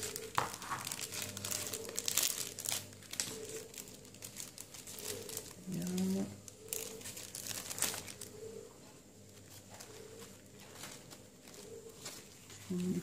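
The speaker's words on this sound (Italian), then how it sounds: "apriamo la velina di Tiger intanto" Crinkly Tiger tissue paper is unwrapped and handled for a decorated Christmas candle craft, bursts of close rustling and crumpling that come and go, with a quieter stretch and a faint coo-like sound.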